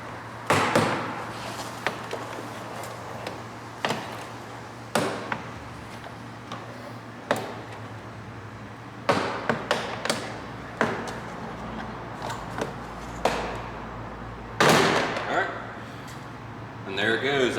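Plastic push pins pop free one by one as the door panel is worked off a 2022 Honda Civic Sport. Sharp clicks and knocks come at irregular intervals, with a person talking between them.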